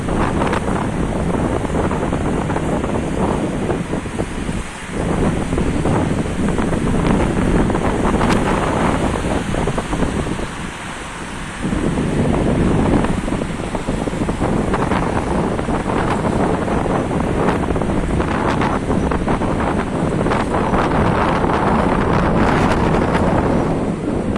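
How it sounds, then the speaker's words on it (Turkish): A powerful storm wind in İzmir blasts without letup, battering the microphone while waves churn and crash nearby, easing only briefly before surging again. "Çok fena fırtına çıktı."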